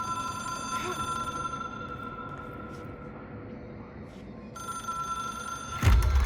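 A hotline telephone rings in the video game Control, an electronic bell-like tone repeating against a low ambient hum before a louder thump near the end.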